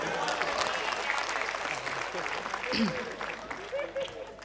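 An audience at a poetry recital claps together in a sustained burst of applause, with a voice talking over the clapping.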